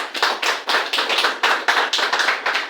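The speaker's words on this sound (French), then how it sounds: "Nvéléo, qu'on doit applaudir" Rhythmic clapping from an audience honoring the builders of Bitam, loud and close with a steady repeating beat across the whole stretch and no talk.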